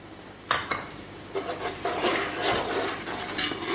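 Red chilli, coriander and turmeric powders being fried in a pot, with a spoon scraping and stirring in quick, close bursts over a faint sizzle.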